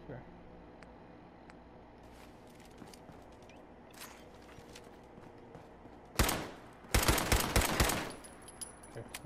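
An auto pistol fires in rapid bursts in the video game Fallout 4, loud sharp volleys arriving after quieter game sounds, with talk under the earlier part.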